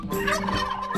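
Turkey gobbling in Minecraft, a single fowl call with a wavering, burbling tone lasting about a second, loud and close with no talk over it.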